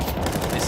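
Counter-Strike gunfire in a BLAST.tv Austin Major 2025 match: a dense, continuous burst of rapid shots packed close together, loud and steady from start to finish.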